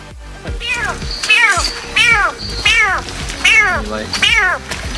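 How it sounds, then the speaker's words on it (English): A giant land frog gives a series of loud, repeated high-pitched calls that sound like a cat's meow, about five in quick succession with short gaps, close and alone. "When you hear giant land frog, you don't expect to hear this sound."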